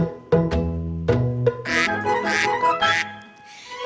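A duck quacks several times in a short cheerful series over a backing of children's song music, the calls bright and fairly loud against the melody.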